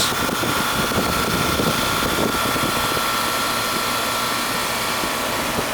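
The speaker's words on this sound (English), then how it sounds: "It just kicked in. The compressor." An older car's AC compressor runs with the engine idling, giving a loud, steady mechanical hum and whir that stays even throughout with no voices.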